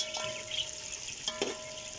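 Onions with cumin, spices and dried coriander fry in a pan for Lahori-style degi rice, giving a soft, moderate sizzle broken by a few stirring scrapes and no speech.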